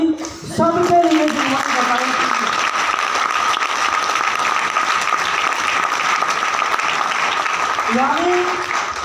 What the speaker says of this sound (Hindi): एक बार जोरदार ताली सबके लिए